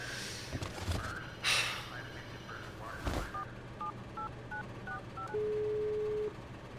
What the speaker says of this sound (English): Come on, Aaron, pick up!